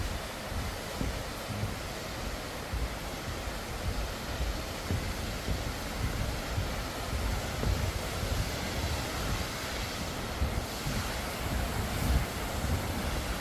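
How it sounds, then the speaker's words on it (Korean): Yongyeon waterfall in Juwangsan National Park pours in a steady, broad rushing roar, constant and close, with no break. "여기 또 폭포 위에 또 같이 연결된 폭포, 연결됐어요."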